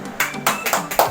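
A small group claps sparsely at a charity foundation's inauguration ceremony as its website goes live, with a handful of separate, close hand claps spaced unevenly.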